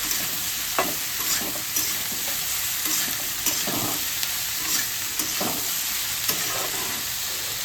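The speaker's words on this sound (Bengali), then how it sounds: "এবার আমি তরইগুলো দিয়ে দিচ্ছি। এটাকে না তরই বলে আমাদের এখানে। ভালো করে নাড়িয়ে" Ridge gourd frying in a pan, a steady close sizzle running throughout with soft, regular scrapes from a stirring spoon over it and no talking.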